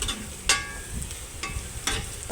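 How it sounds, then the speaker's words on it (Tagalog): A spoon stirs and scrapes aromatics frying in a pan until golden brown, giving four sharp metallic scrapes at a steady pace over a continuous close sizzle. "i-mix together lang natin yung ating mga aromatics hanggang mag-golden"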